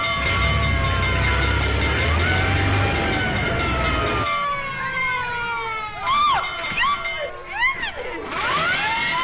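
A 1930s fire engine siren wails in rising and falling sweeps, loud and near, as a crowd cheers and shouts beneath it in an old film soundtrack.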